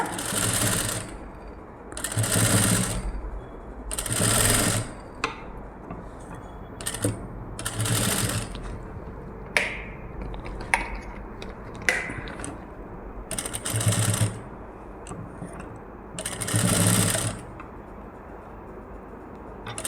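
A sewing machine stitches the neckline of a net blouse in several short runs of whirring, pausing between each. Quiet mechanical clicks and fabric handling fill the pauses.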